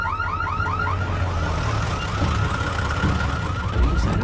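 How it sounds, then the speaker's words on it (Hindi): A vehicle alarm siren wails continuously and loudly, its rapid rising sweeps repeating over a low engine-like rumble throughout. "सायरन क्यों बज रहा है?"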